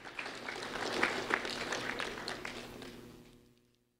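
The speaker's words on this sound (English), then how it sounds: "A round of applause for Jaylene Muniz, please." Scattered applause from a small crowd, fairly faint, tapering off into silence.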